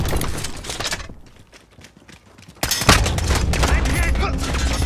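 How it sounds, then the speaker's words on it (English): Gunfire from a sentry gun in a Call of Duty shoot house match: a burst of automatic fire, a quieter lull, then sustained loud, close shooting for the rest of the moment. "Got the sentry gun on station."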